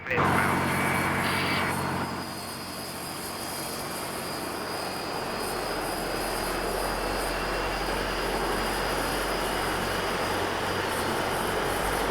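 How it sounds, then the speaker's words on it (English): A Dash 8 Q400 turboprop in the Prepar3D flight simulator has its engines at max RPM, giving a steady, loud, broad engine drone after a brief shift in tone at the start. "Max RPM, you can hear the awesome engine sound."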